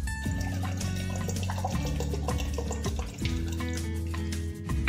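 Hot water pours steadily into a bowl for making strawberry jelly, a continuous liquid splash partly masked by louder background music throughout.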